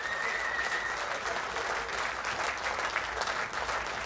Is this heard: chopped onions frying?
no